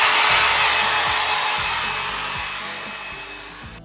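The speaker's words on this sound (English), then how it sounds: "So, hair dryer" A hair dryer drying paint on a custom skateboard blows with a loud, steady whoosh and high whine, its motor hum ticking faintly underneath, gradually fading slightly over a few seconds with no talking.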